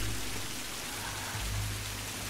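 Steady rain in the Tomb Raider game hisses in a dense, even patter of drops on surfaces, with a low rumbling tone underneath and no voices.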